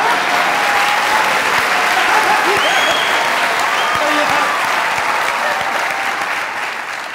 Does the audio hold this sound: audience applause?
yes